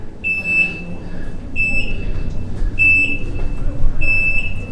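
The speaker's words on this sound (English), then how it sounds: "you can hear the beep. It's kind of a warning" Inside Belém Tower in Lisbon, a warning beep sounds in four evenly spaced high electronic bursts about a second apart over a low murmur of background noise.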